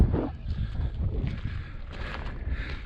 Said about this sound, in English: The wind doesn't know which direction it wants to point.